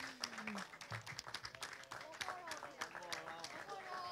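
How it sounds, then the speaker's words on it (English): Scattered clapping from an audience at a youth parliamentary debate, fairly faint and uneven, mixed with voices and shuffling noise. "Ladies and gentlemen, let's give our debaters a big round of applause."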